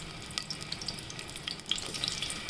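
Onion frying in oil for rajma masala, a steady close sizzle with small crackles and pops spread through it, no voices.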